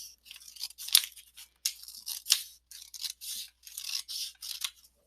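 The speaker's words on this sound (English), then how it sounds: "if you have scissors, here's where you're going to cut right along that fold line" Scissors snip through paper along a fold line, a run of crisp, close cuts in quick bursts with short pauses between them, each snip sharp and papery.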